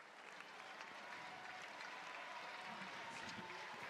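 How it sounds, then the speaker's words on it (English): Stadium crowd applauding a junior runner at the Australian Track & Field Junior Championships, a steady, distant wash of clapping that sounds faint and continuous throughout. "Give him a big round of applause for Cody Clarkson."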